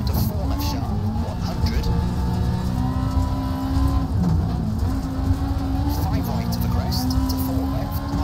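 A rally car engine in the EA Sports WRC racing game drones loudly and continuously at steady revs, with a person talking over it.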